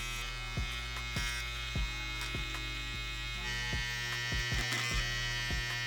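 An electric beard trimmer hums steadily up close, with a sharp tap every half second or so as it knocks against a plastic beard styling guide; there is no talking.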